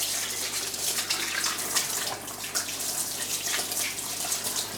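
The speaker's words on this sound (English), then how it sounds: "Now we've got dirty hands, so we'll wash them." Water runs steadily from a kitchen tap while dirty hands are washed beneath it, a soft continuous splashing heard close and fairly quiet, with no talk.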